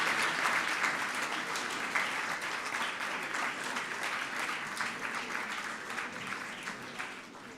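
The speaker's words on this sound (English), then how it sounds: "Another big round of applause, please, for Dr. Donald Kaberuka." Audience applause for the speaker at the Afreximbank Babacar Ndiaye Lecture, full and sustained clapping from a large hall that gradually thins and softens toward the end.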